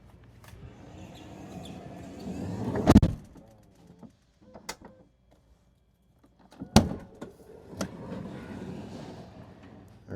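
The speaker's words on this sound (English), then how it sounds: "now we're going to shut our door 3 times" An electric sliding door on a 2019–2024 Mercedes Sprinter van rolls and slams shut, two sharp loud thuds a few seconds apart, each with motor whir and rattle around it, in a quiet space.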